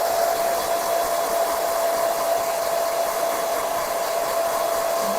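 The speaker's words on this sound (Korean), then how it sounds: "이제 앞쪽에서 우리 드라이기로 이렇게 바람을 주면서" A hair dryer blows steadily on a man's hair during a men's haircut and styling session, a continuous loud airy whoosh with a steady whine, running without pause and with no talking.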